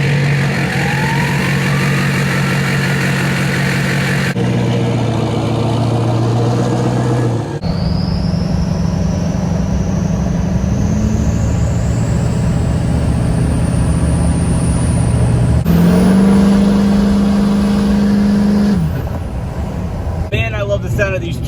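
A Duramax LBZ diesel truck engine cranks over, settles into a steady idle and then revs up in loud, rising surges before dropping back to idle, heard up close with no talking.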